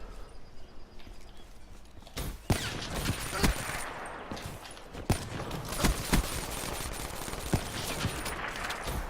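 Gunfire in Call of Duty Black Ops III during a one-on-one sniper and gun game match: sharp, loud shots crack at irregular intervals over a continuous bed of game noise.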